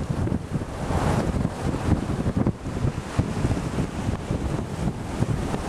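Strong wind buffets the microphone on a beach shore while waves wash in beneath it, making a constant loud rushing roar with no clear breaks.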